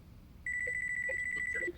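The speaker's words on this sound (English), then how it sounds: "Phone call. 俺の電話だ。" A mobile phone rings in the video game Yakuza 5 Remastered with a rapid, steady electronic trill that starts abruptly, carries on for over a second and then stops. It is loud and close, and no one speaks.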